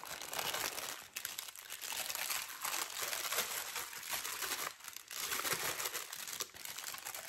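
Sachets for diamond painting canvases crinkling and rustling continuously as they are handled and sorted away, close and fairly soft, with no talk.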